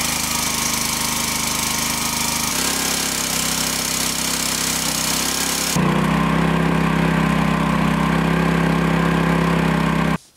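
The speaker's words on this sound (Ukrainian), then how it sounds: "двигун крутить масляний насос, який создає великий тиск, подає на розподільник" A homemade hydraulic log splitter's engine runs loud and close, driving an oil pump in a steady, buzzing drone that shifts pitch and load partway through before cutting off abruptly at the end.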